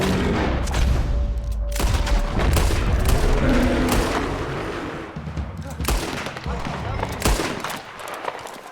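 Gunfire rings out in a Red Dead Redemption 2 bear encounter, several sharp, loud shots spaced irregularly over a rumbling game background with shouting voices.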